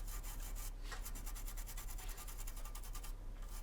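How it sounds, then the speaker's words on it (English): Scrubbing on a corroded Xbox One S circuit board, a dry rapid rubbing and scratching with quick back-and-forth strokes, close up and steady with no voices. "Sometimes you just clean corrosion off and it works again."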